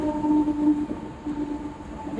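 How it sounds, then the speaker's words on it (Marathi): A suburban train pulls into Kharghar station with a loud, steady mechanical rumble and a sustained tonal hum, close by. "आता तुम्ही बघा, खारघरची ट्रेन आलेली आहे."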